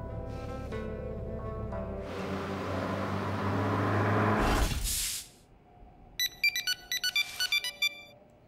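An electronic phone ringtone sounds in short, evenly repeating bursts of bright tones after a stretch of loud engine and road rumble, with no talking.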